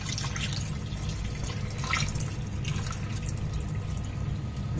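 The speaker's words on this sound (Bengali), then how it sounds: "আলুটাকেও কেটে ভালোভাবে ধুয়ে নেবেন" Cut potatoes are rinsed in water, with quiet continuous splashing and dripping, small irregular sloshes heard up close at low level with no voice.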